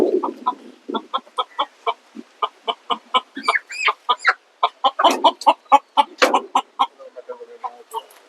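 Chickens cluck in quick repeated bursts as they are let loose outdoors, a rapid, busy chorus of close, loud calls with a short squawk near the start and quieter birds trailing off at the end.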